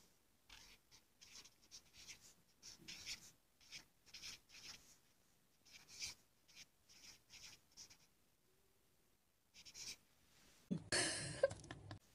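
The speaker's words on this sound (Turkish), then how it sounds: "Evet gördüğünüz gibi bu kalemde çok büyük yazıyor." A pen scratches across paper in a series of short, close, quiet strokes with brief pauses, ending in a louder rustling burst.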